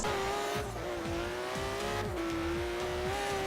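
A 4x4 racing in Forza Horizon 3 drones with a steady engine tone that shifts pitch between gears, plus tire and road noise, loud and continuous with no talking.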